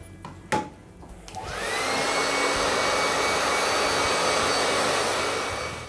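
A hair dryer switches on and runs at a steady, loud roar while blow-drying hair into bouncy retro volume, following a few brief clicks and handling noises.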